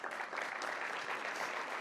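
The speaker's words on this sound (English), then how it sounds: "And I want to give you a special round of applause" Audience applause at an economic development announcement in Albany, a dense, steady crackle of many hands clapping that runs continuously through the short clip.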